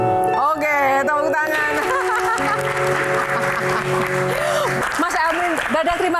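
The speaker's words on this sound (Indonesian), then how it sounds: "Oke, tepuk tangan." A studio audience applauds Emil Dardak during a Q&A show, the clapping running under a host's talk and music with voices carrying throughout.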